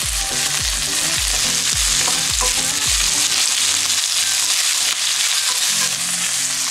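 Onion and garlic for pancit canton hit a hot pan and get stirred, giving a loud, steady sizzle that runs without a break, with no one talking.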